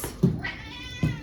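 A pet cat meows twice indoors, close and clear, each call short with a pause between, in an otherwise quiet room.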